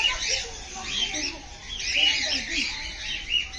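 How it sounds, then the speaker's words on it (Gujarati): A cockatiel, an Australian parrot, calls in an aviary with a steady run of shrill chirps and whistles that rise and fall over a few seconds, moderately close. "કાકાટેલ પણ બહુ જ સુંદર છે. તમે જોઈ શકો છો આ પણ એક ઓસ્ટ્રેલિયાનું જ પક્ષી છે."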